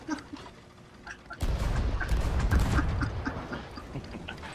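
Naval guns fire in a video game, a sudden heavy barrage of booming blasts after a quiet start, continuing as a dense rumbling volley, loud and close, with a voice faintly underneath.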